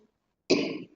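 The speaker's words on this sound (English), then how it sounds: "Cough is coming." A single sharp cough from an adult lecturer in a classroom, one short harsh burst heard close and alone after a moment of silence.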